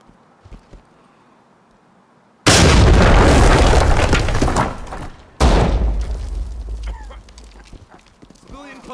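A C2 breaching charge detonates in the tactical shooter Ready or Not with a sudden loud blast, followed seconds later by a second sharp burst and lingering rumble and debris.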